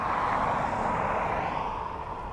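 A Ryanair airliner lands on runway 28 left at Dublin Airport on a windy day, a loud steady engine roar that eases slightly toward the end, with no voices.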